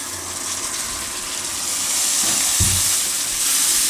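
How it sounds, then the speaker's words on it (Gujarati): Tomatoes tossed into hot oil with turmeric, coriander-cumin powder and red chilli for a Gujarati green chickpea and tomato curry: a loud, steady close sizzle that swells after the tomatoes go in, with a brief stirring clatter. "હવે આપણે એમાં ટમેટાં નાખી દઈશું."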